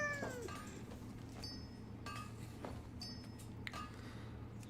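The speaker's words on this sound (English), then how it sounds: "See if we can get a meow into the mic here." A house cat meows close to the microphone, several drawn-out, wavering cries over a low steady hum, with short pauses between calls.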